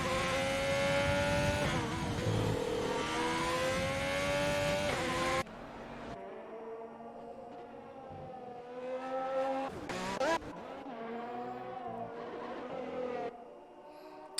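Formula 1 cars in an F1 racing game drive the Bahrain track during qualifying, with a loud, high engine whine that rises and falls as cars accelerate and pass, then softer engine drones after a cut.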